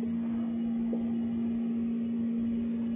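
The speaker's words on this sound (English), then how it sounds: "There's a switch on the side here. Creates a vacuum inside." A vacuum casting machine for metal jewelry casting runs with a steady electrical hum and low mechanical drone, constant and unchanging, with no voices.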